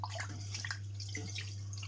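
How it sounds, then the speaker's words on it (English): Rice being washed by hand in a bowl of water, with soft sloshing, swirling and dripping splashes, close and continuous over a steady low hum. "give the rice a good massage to help to clean it."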